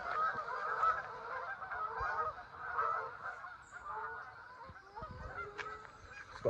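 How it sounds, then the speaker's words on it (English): A flock of about 100 geese honks continuously in a dense, overlapping chorus, heard from a moderate distance outdoors on a rainy day, with faint thumps and handling noise close by. "It's about 100 geese."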